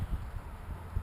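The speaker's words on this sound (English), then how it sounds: "sorry about the wind. A little breezy and freaking cold" Steady, close wind buffeting a microphone outdoors on a cold, breezy day, a low rumbling roar with gusty swells throughout and no voices.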